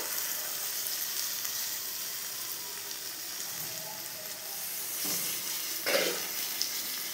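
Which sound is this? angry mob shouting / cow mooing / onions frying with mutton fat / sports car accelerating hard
onions frying with mutton fat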